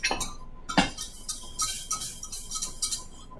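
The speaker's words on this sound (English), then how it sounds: "add a little bit, whisk it in, add a little bit more" A whisk clinks repeatedly against a pan while milk is stirred into chocolate gravy, a steady run of light metallic taps at close range with no talk.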